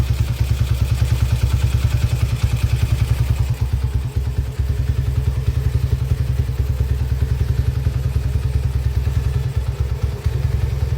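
A repaired Tiger motorcycle engine, formerly rough-running, idles steadily and smoothly at close range in a workshop, a continuous low, even putter with no talking.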